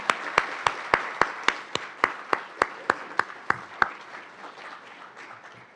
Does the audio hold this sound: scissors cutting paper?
no